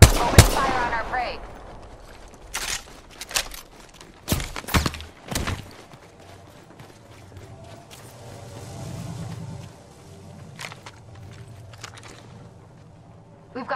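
Gunfire in the Apex Legends video game: several sharp, loud shot bursts in quick succession early on, then quieter game ambience with scattered hits and a voice talking.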